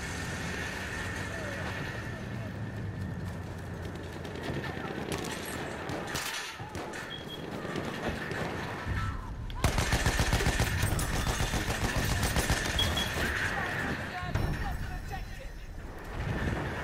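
Medic assault rifle gunfire in a video game sounds in dense, steady rapid bursts that grow louder after a brief pause, with other game sounds and voices mixed in.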